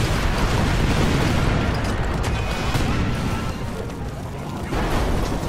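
A loud, sustained explosive roar from a grenade blast in the video game Crackdown fills the whole stretch, dense and rumbling with bursts layered through it.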